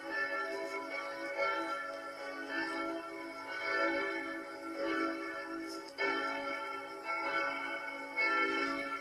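Simulated full peal of belfry bells made with Grasshopper, several overlapping strikes ringing in a continuous shimmering wash with repeated swells, moderately quiet and without voices.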